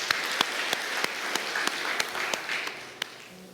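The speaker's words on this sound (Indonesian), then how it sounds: "Mari kita tepuk tangan dulu buat Tuhan Yesus." Church congregation claps together in a steady, rhythmic beat of sharp, evenly spaced claps, fairly quiet and at a slightly distant setting, with no talking over it.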